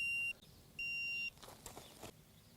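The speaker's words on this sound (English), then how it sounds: "You hear the beeping, because my laser is off level." A self-leveling laser level sits off level and gives two sharp, high electronic beeps, each about half a second long with a short gap between. Fainter handling noises follow, and nobody speaks.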